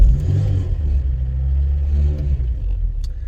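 Vauxhall Astra Mk.2 with a smooth 1.3 engine and 68,000 miles, idling steadily after starting, a close, even low rumble that holds throughout without talk.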